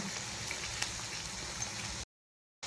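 Momo filling with finely sliced onions fries on high flame, giving a steady, rain-like sizzle and bubbling close by. The sound cuts out completely for about half a second near the end, then returns.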